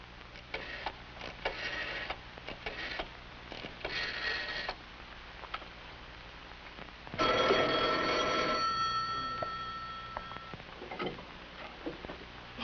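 Old 1950s telephone bell ringing in a house, a loud burst of ringing midway after quieter ticking and rustling, with no talking.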